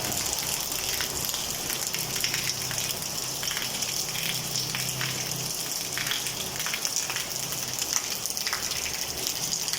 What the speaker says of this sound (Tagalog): Ayan ang lakas ng ulan. Heavy rain.